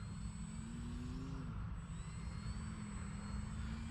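An FMS Ranger 1800mm RC airplane flies overhead, its electric motor a steady, moderately loud drone with a slight pitch sweep partway through, heard alone without talk.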